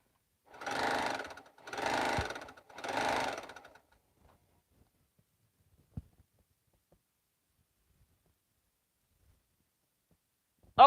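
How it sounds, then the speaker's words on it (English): Brother sewing machine stitching at speed in three quick bursts of even mechanical whirring, each about a second long, followed by near silence with a single faint click. "now I think it's just speed sewing noise"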